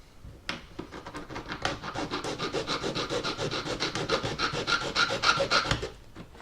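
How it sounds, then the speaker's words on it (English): A file rasps back and forth across the end of an HO scale model railway rail, a close, continuous run of quick scraping strokes lasting several seconds without speech. "So I think I'd file this one."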